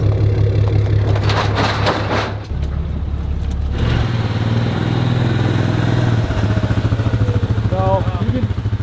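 Four-wheeler ATV engine running steadily while rolling over bumpy ground, a loud continuous low rumble with shifting pitch and knocks, joined by faint speech.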